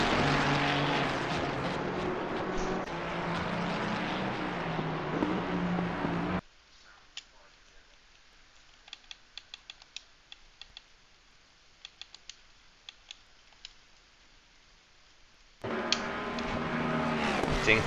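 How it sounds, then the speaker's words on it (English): Race car engines during an 8-hour Suzuka endurance race in a racing game, loud droning engine noise that cuts out abruptly to near silence with scattered keyboard clicks, then the engines return just as loud. "should we just lower the sound of the cars in general?"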